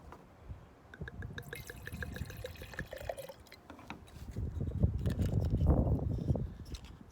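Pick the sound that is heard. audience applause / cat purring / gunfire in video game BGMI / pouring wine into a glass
pouring wine into a glass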